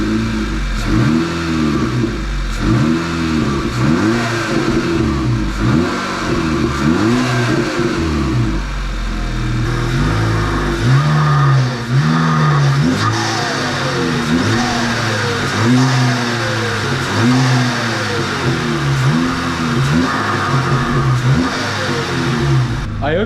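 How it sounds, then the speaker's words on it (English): VW Golf GTI fitted with a new cold air intake and straight pipe exhaust, engine repeatedly revved from idle in rising and falling sweeps, loud and close, with occasional deeper pulls and brief settling back toward idle between blips. "Let's start up the car and hear a little bit of the sound of the new intake."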